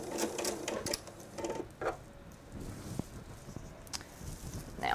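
A sewing machine stitches the side of a patriotic nine-patch quilted table runner in quick mechanical bursts, its needle rattle starting and stopping amid soft fabric rustling, close and moderately quiet.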